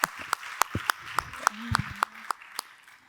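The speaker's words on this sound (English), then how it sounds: "So please, an applause for Jarmo." Sharp claps ring out in a steady, evenly spaced rhythm, moderately loud and close, with faint voices and tones underneath, at the welcome session of the 4th International Social Housing Festival in 2023.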